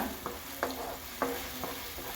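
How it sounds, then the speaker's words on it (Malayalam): Ground beetroot fries in ghee in a pan, with a soft continuous sizzle and a few evenly spaced scraping stirs, close but fairly quiet. "നെയ്യ് കിടന്ന് ബീട്രൂട്ട് എല്ലാം നല്ലതുപോലെ ഒന്ന് ഫ്രൈ ആവട്ടെ."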